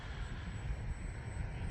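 An RC airplane with AS3X stabilization flies on a windy day, its motor a steady, continuous drone with broadband wind rush, moderately loud and unbroken, with no talking.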